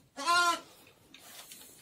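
A ewe bleats loudly and close just after lambing twins, one harmonic-rich cry lasting about half a second, followed by quieter barn rustling.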